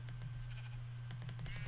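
Sheep bleating in the video game Minecraft, a few short bleats over a steady low game hum, fairly faint and with no talking.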